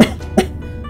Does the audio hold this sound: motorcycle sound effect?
no